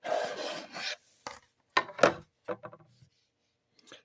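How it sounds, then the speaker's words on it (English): A knife slices open the packaging of a Soundwave toy figure, making close, short scraping and rasping cuts in separate bursts with quiet gaps between them. "let's open this up with my trusty knife"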